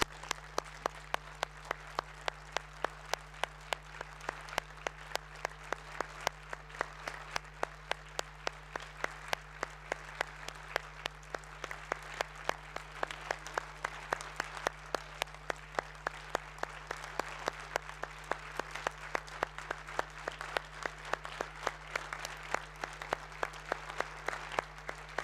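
Sustained applause from an audience in a public square, a dense, even wash of clapping that holds steady for the whole stretch without talk.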